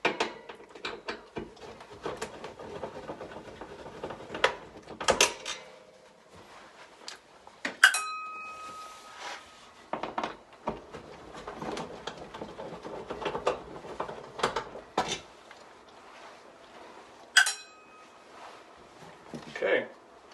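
Two mounting screws are backed out of a Broan 170-B wall heater, with a screwdriver clicking and clinking, metal parts tapping, and a few short squeaks, in scattered bursts with pauses between them.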